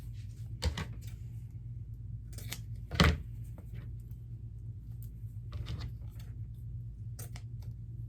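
Scissors cut pieces of ribbon in a few separate crisp snips spread across a quiet room, with one louder clipped cut partway through.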